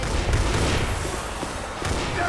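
Dense, continuous gunfire in the multiplayer zombie shooter Left 4 Dead 2, a loud barrage of overlapping shots with no pauses across the whole stretch.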